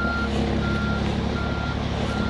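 A truck's reversing alarm beeps steadily while backing up at a rock-loading site with an excavator, with a continuous engine rumble underneath and no talk.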